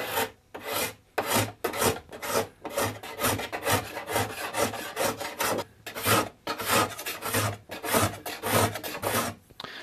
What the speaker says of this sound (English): what this does is it just scrapes off the surface